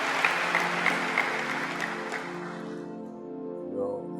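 Audience applause from a seated crowd at a talk, a dense steady clapping that thins and fades toward the end, heard alone without speech.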